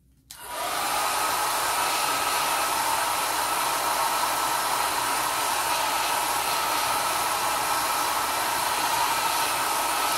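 A hair dryer runs steadily close by to dry a freshly painted watercolor bookmark, switching on with a quick rise and then holding a loud, continuous airy roar.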